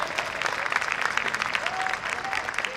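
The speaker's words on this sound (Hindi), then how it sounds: "सरवत हुसैन के लिए भरपूर तालियां बजाइए प्लीज" A crowd applauds, steady dense clapping throughout, with a few whoops rising above it.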